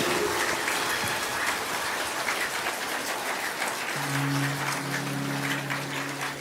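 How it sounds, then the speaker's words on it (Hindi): A crowd claps in a dense, sustained patter of applause at a spiritual gathering honouring women, continuing evenly throughout, with a faint held tone entering partway. "हमारी मातृशक्ति के सम्मान में जोरदार तालियों की गड़गड़ाहट करें।"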